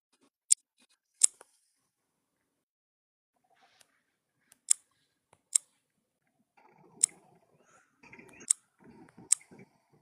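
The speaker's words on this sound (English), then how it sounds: "Sounds like someone's flicking a bic." Sharp, isolated clicks of a Bic lighter being flicked, spaced irregularly a few seconds apart and faint in a quiet room, with soft murmuring talk toward the end.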